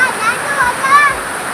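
Dense, steady rush of heavy rain pouring down, with a voice speaking over the downpour.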